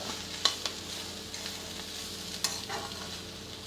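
Carrot and fresh grated coconut stir-fry in a pan, a quiet sizzle broken by a few scraping stirs, alone without voices.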